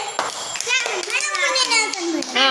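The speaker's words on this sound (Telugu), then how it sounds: "క్లాప్స్ ఇవ్వండి" Children in a classroom break into loud, rapid clapping mixed with excited young voices and chatter, close and continuous throughout.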